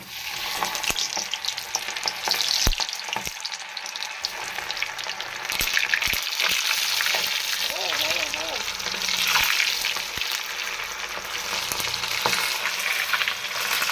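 Rava-coated fish, a type called bhutai, frying in hot oil: a loud continuous crackling sizzle with sharp pops and bursts, close up and sustained throughout.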